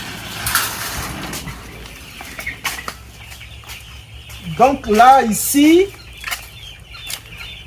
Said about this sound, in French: nous faisons la production des poulets de chair, les COP 500, et vous les voyez, ils font à peine 2 semaines.